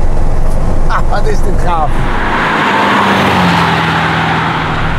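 A classic 1970 car accelerates hard on the Autobahn, its engine roaring loud and close with a rising pitch as the gears climb, while someone speaks excitedly over it.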